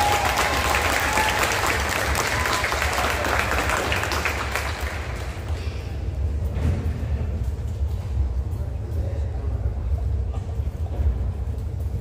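An audience at a high school end-of-year concert gives dense, sustained applause that fills the room, then gradually thins and fades to scattered claps toward the end.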